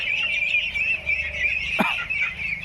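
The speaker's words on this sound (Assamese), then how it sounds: "ধুনীয়া হাঁহৰ পোৱালিবিলাক" Ducklings of a domestic duck breed chirp and peep continuously in a high, busy chorus close by, with one louder call standing out near the end.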